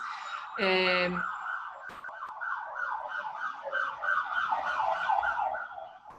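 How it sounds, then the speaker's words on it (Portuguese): An ambulance siren wails in repeated rising and falling sweeps, passing at a moderate distance, preceded by a brief loud horn-like blast and a sharp click. "Ambulância."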